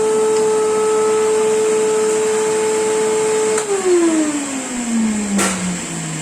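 A vacuum cleaner motor hums loudly and evenly, then its pitch sinks steadily as it winds down.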